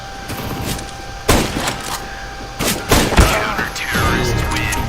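Several sharp gunshot bursts in a CS:GO match ring out over a constant electronic background hum, spaced irregularly, with a brief rapid burst near the end.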